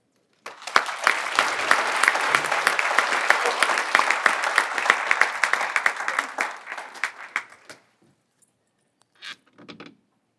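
Audience applause welcoming a speaker to the stage at a conservation partners roundtable plenary session: dense, steady clapping from a large crowd for about seven seconds, then fading out, followed by a few faint shuffling sounds.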